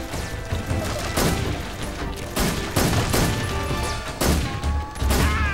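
Rapid bursts of gunfire in Metal Gear Solid 3: Snake Eater, loud repeated volleys with sharp cracks and clanking mechanisms, alternating with brief lulls.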